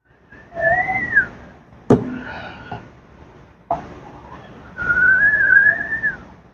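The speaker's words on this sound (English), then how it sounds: "Very nice whistle." A person whistles a few sustained, sliding tones close by, with a sharp click and faint knocks between the phrases and a longer rising-and-falling whistle near the end, during a screen printing session.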